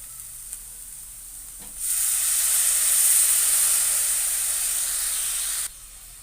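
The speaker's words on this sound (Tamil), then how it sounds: "இப்போ தண்ணி ஊற்றிக்கிறேன் நான்." A loud, steady sizzle and hiss erupts as water hits a hot pan, holding for about four seconds before cutting off abruptly.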